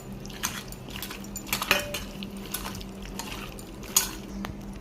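Paneer tikka pieces mixed with curd in a bowl for marinating, giving soft scraping and light clinks of a spoon against the dish, with a few sharper knocks over a steady low background hum.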